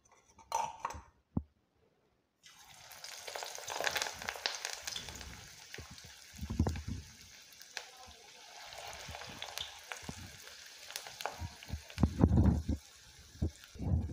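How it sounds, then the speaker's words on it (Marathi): Chicken lollipops deep-frying in hot oil give off a soft, steady sizzle and crackle, with a few sharp clinks of a utensil against the pan early on and scattered louder bubbling bursts. "यामध्ये मी हे लॉलीपॉप सोडून घेतले आहेत। 1 मिनिटभर न हलवता या साईडने तळून घेऊ।"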